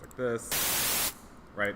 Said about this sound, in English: start with white noise, which sounds like this